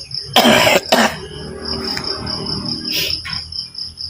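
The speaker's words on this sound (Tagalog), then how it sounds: "Ubo ko." A person coughs twice in quick succession up close, then once more more softly, over a steady background of chirping crickets.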